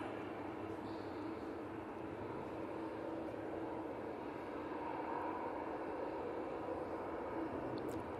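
Ryanair airliner landing at Manchester Airport, a steady distant jet engine roar holding even and fairly faint, with no talk.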